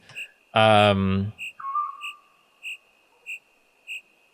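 Evenly spaced cricket chirps pulse steadily through an indie horror video game's ambience, while a loud voice-like whistle or wail and a sliding tone briefly sound over the first part.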